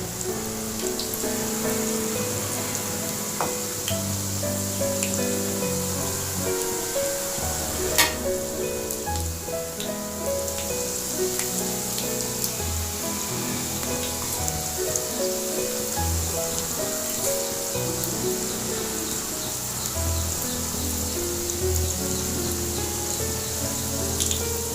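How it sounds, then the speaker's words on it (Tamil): Onions fry in a pan for beetroot greens pakoda, a steady close sizzle and crackle with faint stirring scrapes throughout, no voices. "ஆனியன் வந்து நல்லா ஃப்ரை ஆகணும்."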